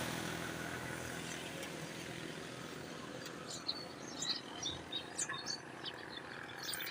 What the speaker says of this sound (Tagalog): Meron pang mga ingay ng ibon na umaawit ngayong umaga.